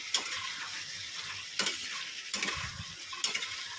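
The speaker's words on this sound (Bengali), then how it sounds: "দেখো মশলাটা কষে এর মধ্যে একটু দিয়ে দিয়েছে এঁচুর আলুটা" Spice paste frying in a pan with green jackfruit and potato, a steady sizzle broken by four scraping stirs spaced about a second apart, close and moderately loud, with no talking.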